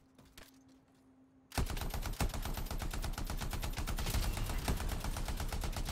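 Rapid automatic gunfire from the Anthem video game erupts after a quiet opening and continues as a dense, loud, steady stream of shots for several seconds, with no talking.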